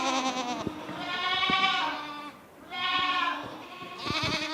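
Farm goats bleating in the Alpine countryside near Valloire, three long wavering calls close by with a short gap between them, plus light knocks and movement underneath.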